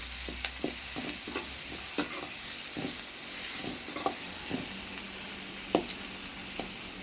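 Tomato goes into onions frying in a pan, followed by steady sizzling and repeated spoon scrapes and knocks against the pan, close up and fairly quiet, with no voices.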